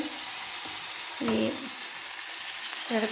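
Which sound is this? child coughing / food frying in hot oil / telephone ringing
food frying in hot oil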